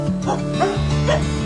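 Dogs adopted from a local shelter barking and yipping in quick repeated bursts, close and fairly loud, with some whimpering mixed in.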